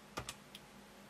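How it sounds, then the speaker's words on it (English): Computer keyboard keys clack two or three times in quick succession, faint and close in a quiet room. "And then I press Enter."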